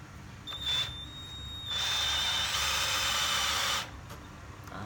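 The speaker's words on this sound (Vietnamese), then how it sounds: "Mình sẽ khoan cho các bạn xem." A DeWALT DCD700 36V cordless drill bores in a loud two-second burst, its steady high whine rising after a brief starting whir and then stopping, with no talk over it.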